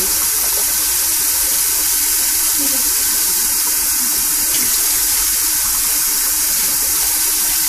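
Water from a faucet runs steadily throughout while a Persian kitten is washed at a sink, a continuous close hiss and splash with no voices.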